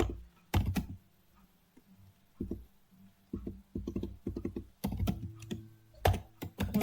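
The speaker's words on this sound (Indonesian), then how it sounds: "Di sini saya sudah mengetik." Commands being typed on a computer keyboard while working in a Linux shell, with bursts of close, crisp key clicks separated by short pauses.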